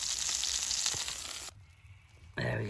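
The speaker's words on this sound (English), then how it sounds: "the pan is still hot, but they've just stopped sizzling" Steak or similar food frying in a hot pan at a summer campsite, a dense sizzle filling the first second and a half, fading into quieter crackle, then a loud burst of sizzling returning near the end.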